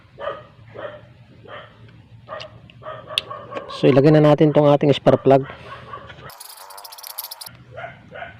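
A dog barks several times in quick bursts close by, while someone talks and a rooster crows nearby.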